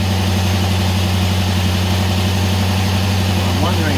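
Ford Falcon XD V8 engine running on a fast idle with a choke issue, a steady loud droning rumble with even pulsing throughout, close by and without pauses.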